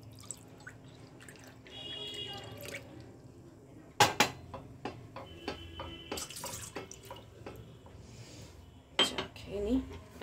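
A metal pot is set up for making tea, with clanking metal and utensil knocks, drips of water and sharp clatters at close range, and no talking.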